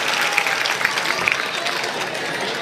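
Audience applause for a guest of honour at a Nimar Utsav cultural festival in Maheshwar: a dense, steady wash of many hands clapping at once, continuous and fairly loud throughout, with a few sharper individual claps standing out.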